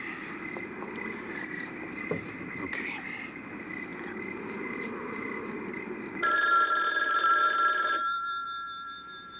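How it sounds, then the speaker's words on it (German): A telephone rings with an incoming call in a German radio drama, a steady electronic ring that starts partway through and sounds loud and close, over a low background hum. "Inspektor, da kommt ein Anruf."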